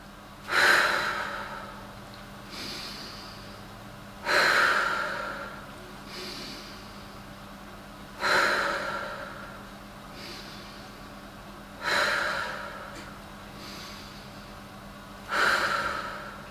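Slow, deliberate breathing during a warm-up for an adult beginner piano lesson, five strong breaths spaced about four seconds apart, each a loud rush of air followed by a quieter release, close and without talking.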